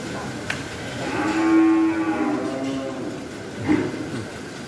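Cattle on a farm moo in a single drawn-out call, close and fairly loud, followed by a shorter lowing sound; small cattle are penned nearby with faint background noise.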